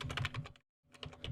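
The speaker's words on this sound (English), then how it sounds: "Then type in your password." A password is typed on a computer keyboard in rapid, close keystrokes. A quick run of clicks breaks off into a moment of silence, then another short flurry follows.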